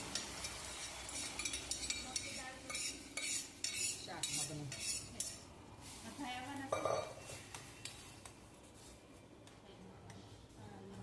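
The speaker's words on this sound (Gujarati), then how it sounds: "પછી તેને આપણે સારી રીતે હલાવી લઈશું" Boiled mung beans with sautéed tomato being stirred in a pan for a Gujarati dish, a string of quiet scraping and clinking spoon strokes against the metal, faint and close, with a voice speaking in the background.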